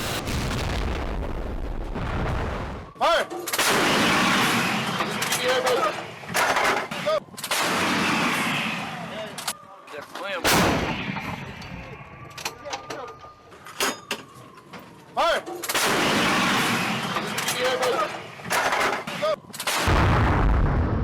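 War footage of a Russian artillery and gunfire attack on Donetsk: repeated loud heavy blasts and bursts of gunfire in clusters, separated by brief quieter gaps.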